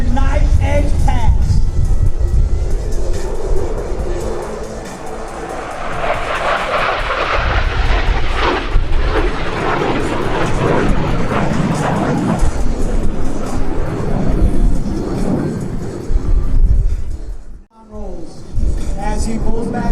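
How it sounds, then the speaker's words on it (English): A USAF F-16 fighter jet making a knife edge pass at an airshow in Rhode Island, a loud roaring engine swell that builds, peaks and fades as it passes, with a public address announcer talking over it throughout. "From your right, the F-16 and the knife edge pass."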